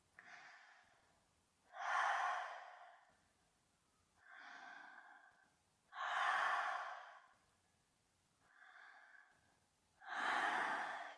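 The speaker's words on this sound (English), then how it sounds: "open the mouth, stick out the tongue, and we're breathing long," Long, slow, deep breathing through an open mouth with the tongue out during kundalini yoga: three loud rushing breaths alternate with three softer, breathy ones in a steady rhythm, each lasting about a second and a half, close up.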